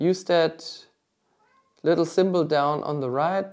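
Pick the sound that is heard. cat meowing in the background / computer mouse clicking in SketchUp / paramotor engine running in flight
cat meowing in the background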